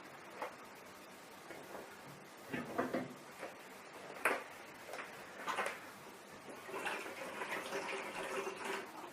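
Water flushes through the group head of an espresso machine during cleaning, heard as soft irregular splashes and trickles with a few louder spurts, fairly quiet and close, with no talk.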